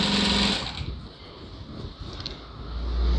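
A sewing machine runs steadily while stitching the neck and sleeve seams of a lined blouse, a close, continuous whirring hum that holds throughout.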